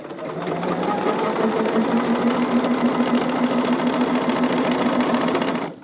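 A sewing machine sews jelly roll quilt pieces in one loud, steady, continuous run close up, with a faint voice underneath.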